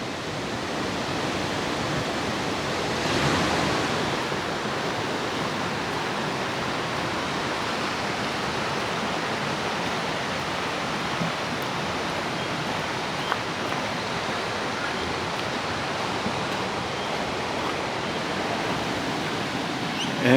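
Morialta Falls near Adelaide pours steadily in the distance. A constant, even rush of falling water continues for the whole stretch with little variation and no talk.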